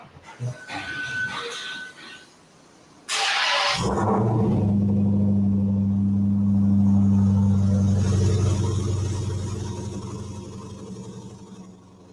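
A Dodge Hellcat's engine, started by remote, fires with a sudden loud burst, then settles into a deep, steady, close rumble that swells slightly before easing off.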